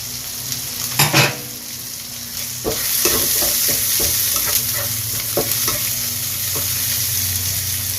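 Tomatoes and celery stirred and fried in a pan for pancit canton, a steady sizzle under repeated scraping and clinking of a utensil against the pan, loudest near the start with a few sharp knocks later.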